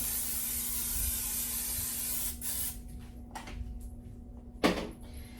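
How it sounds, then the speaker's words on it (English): Olive oil cooking spray hisses into a medium-sized crock pot in one continuous burst lasting a couple of seconds, followed by a few faint clunks and knocks nearby. "I am going to go ahead and spray it with some olive oil spray"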